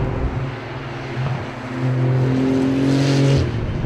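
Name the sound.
Porsche 911 GT2 RS turbocharged flat-six engine wailing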